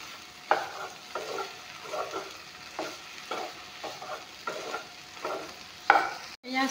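Dried okra frying and being stirred in a pan, with a low steady sizzle broken by repeated scraping strokes and one sharp clink near the end, close and alone with no talking.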